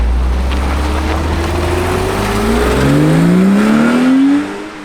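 A BMW E34 M5 pulls away under acceleration, its engine note climbing steadily in pitch through the rev range, loud and close, with no talking.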